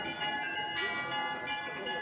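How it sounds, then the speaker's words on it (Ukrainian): Sunday church bells ringing at a flea market in Chernihiv, sustained metallic tones sounding faint and distant beneath steady outdoor background. "недільні дзвони"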